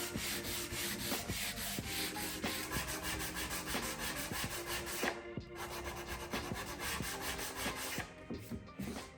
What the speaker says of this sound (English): I got the sander back out and removed this faux wood grain with some 120 grit